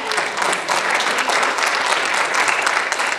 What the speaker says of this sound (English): Can y'all give God a clap of praise for a minute?